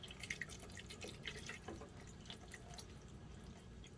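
Water trickles and drips into a blender holding torn paper for papermaking, a close, soft splashy pour that fades after a couple of seconds.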